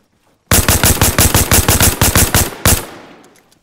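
Rapid automatic gunfire in the video game Arma Reforger, a loud, close burst of about a dozen evenly spaced shots, then one final shot fading into a short echoing tail.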